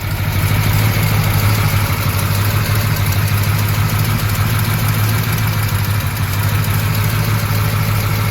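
A 1963 Ford Galaxie XL 500 engine idles with a steady, deep, even rumble that stays loud and close throughout, with no talk over it.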